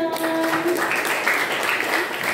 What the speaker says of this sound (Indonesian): Oh iya, tepuk tangan dong.